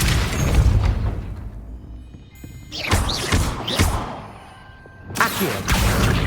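A Depulso spell cast in Hogwarts Legacy lands as heavy booming thumps with whooshing bursts. Three or four loud impacts are separated by brief quieter gaps, with no talking.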